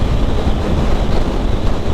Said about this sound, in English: it's windy as fuck here